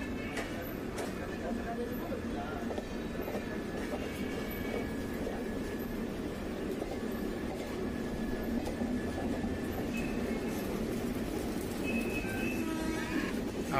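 Train running at low speed as it gradually picks up pace, a steady rumble of wheels and carriages heard from on board, with faint birdsong and a voice talking over it.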